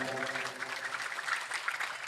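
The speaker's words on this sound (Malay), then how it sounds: "Tepuk tangan untuk pemuda Cedung nih." A crowd claps steadily and densely at a lively Islamic religious gathering in Jadung, giving continuous applause for the local Cedung youth with no break or voice over it.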